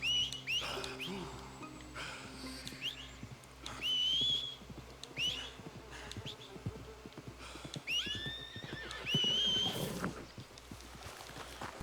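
Horse in the video game Red Dead Redemption 2, heard as scattered whinnies and snorts mixed with faint hoof clatter and high whistling game ambience, all at moderate distance with no talking.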